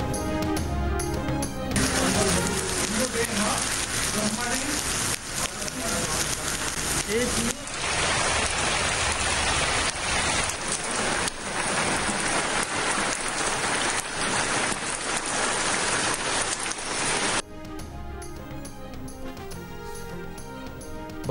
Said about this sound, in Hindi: गवादर जिवनी समेत मुख्तलिफ इलाकों में बारिश।